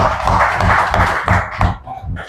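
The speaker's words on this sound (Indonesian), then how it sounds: "Tepuk tangan dulu buat Anda" An audience at a business rewards event in Sinjai claps in quick, rhythmic bursts, loud and close, with voices mixed into the clapping before it thins out at the end.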